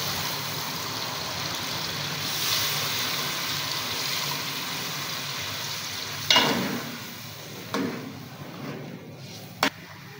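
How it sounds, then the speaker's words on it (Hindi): Water poured slowly into a hot pot of chicken biryani cooked with ghee and oil sets off a steady hiss and sizzle, with a few sharp clinks and splashes toward the end. "ये अब आप पानी आराम से आहिस्ता से डालेंगे"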